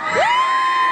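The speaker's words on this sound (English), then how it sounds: "I don't think they're cheering because they got 3 more years of school" High school students cheering in a gym during a class roll call, a brief loud burst of crowd noise topped by one rising whoop.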